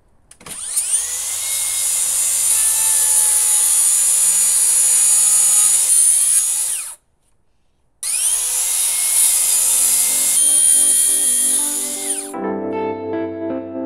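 A power saw cuts through plywood timber cladding on a new house build, a loud, sustained high-pitched whine broken by a brief pause, then a second long cut that winds down as the blade slows.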